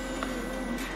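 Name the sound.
small electric fan running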